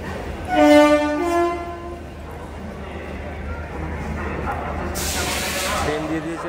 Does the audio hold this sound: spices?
no